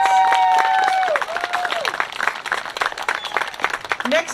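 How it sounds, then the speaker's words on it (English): Audience applause at a graduation ceremony, a steady wash of clapping that carries on for several seconds, with a voice speaking over the start before the clapping thins and grows patchier. "let's do one final round of applause for our special awards"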